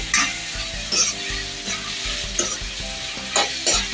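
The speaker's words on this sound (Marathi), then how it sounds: "आता आपण बारीक चिरून ठेवलेली भाजी घालून घेऊया." Finely chopped shegla greens going into onions softened in hot oil, a bright sizzle with rhythmic scraping and clanking of a spatula against the pan, close and steady without speech.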